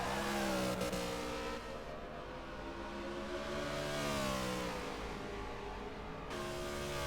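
Race car engines in the video game Forza Motorsport 6 drone and rev steadily, several cars close together, the engine pitch rising and falling through gear changes at moderate volume.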